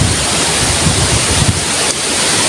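Strong typhoon wind roars steadily against the microphone, a loud, broad rushing noise with low buffeting gusts and no voices.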